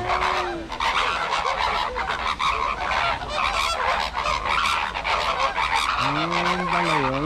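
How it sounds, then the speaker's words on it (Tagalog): Flamingos at Rabat Zoo give loud honking, goose-like calls, several overlapping in a near, busy flock chorus. "ayan pala yung tunog ng flamingo"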